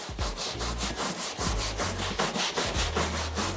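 Stiff tire brush scrubbing a porous WeatherTech floor mat, rapid rhythmic back-and-forth strokes, steady and close-up throughout with no voices.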